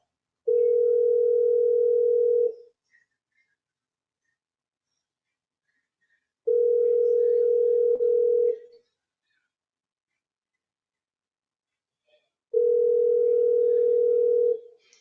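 Phone dial tone while calling back through Google Voice: three long steady tones, each about two seconds, separated by roughly four-second silences, clear and close with nothing else heard.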